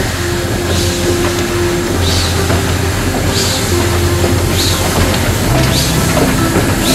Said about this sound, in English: Ng15-123, reverses out of the shed, but then has great difficulty in climbing back up the bank to pick up its carriages